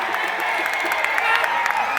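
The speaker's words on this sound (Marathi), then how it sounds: "टाळी टाळी टाळी टाळी." Dense crowd clapping and cheering at an outdoor kusti wrestling bout in Jamner, a steady broadband roar of applause from a large audience with scattered shouts throughout.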